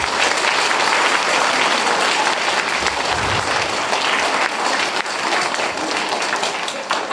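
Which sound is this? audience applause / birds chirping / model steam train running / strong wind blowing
audience applause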